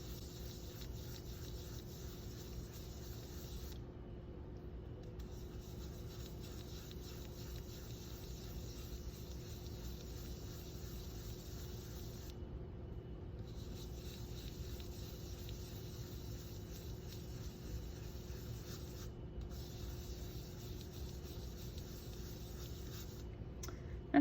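A blending brush sweeps over embossed paper while ink is applied through layering stencils, making a soft, continuous, close rubbing hiss with a few brief pauses between strokes, and no one speaking.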